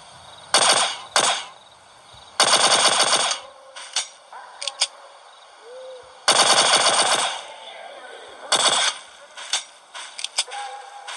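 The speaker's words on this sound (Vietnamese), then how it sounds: "Các bạn sẽ dùng khẩu súng này để bắn." Rapid automatic gunfire in a Siren Head horror video game, several loud bursts of varying length separated by short pauses and smaller clicks, close and without speech.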